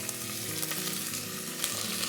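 Olive oil sizzling in a hot pan, heated before garlic goes in for a nettle soup, a steady close crackling fry with scattered sharper pops, heard alone.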